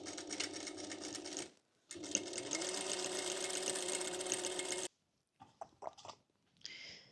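A sewing machine stitches a folded, ironed hem in a couple of quick, close whirring runs separated by a short pause, followed by a few small handling clicks and rustles, with no talking.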